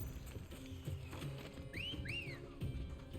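A character whistles twice in Final Fantasy XVI, quick rising-falling two-note calls like a catcall, faint over horse hoofbeats clip-clopping and ambient game sound.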